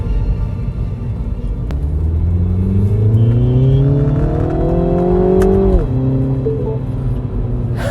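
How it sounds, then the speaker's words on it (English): Exhaust note from a 2022 MINI Cooper S front-wheel-drive hatchback under acceleration, a loud rising engine drone climbing steadily in pitch for several seconds before a sharp drop at a gear change, heard close with no talking. "The exhaust note is pretty crispy as well."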